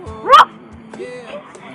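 A person imitates a barking dog with one loud, yelping bark, followed by softer voiced sounds and a brief quieter woof.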